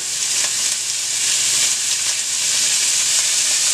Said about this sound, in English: I'm gonna add in there my onions,